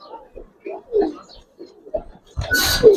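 Silver Giribaz pigeons give short soft coos amid scattered speech, close and intermittent, ending in a louder burst of noise.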